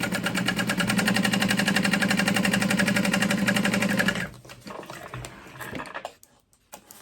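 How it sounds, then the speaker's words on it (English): A sewing machine stitches two pieces of waterproof canvas together along the top edge, with a steady, loud, rapid mechanical whir for about four seconds before it stops and faint handling noises follow. "I'm going to just sew those right sides together at the top"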